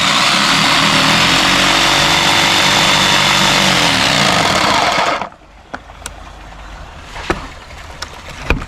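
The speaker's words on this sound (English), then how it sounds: "That way I can make my final cuts for the stringers" A power tool cuts stair stringers for a staircase build, a loud steady buzzing saw drone that stops abruptly about two thirds through, followed by quiet room tone with a few sharp knocks.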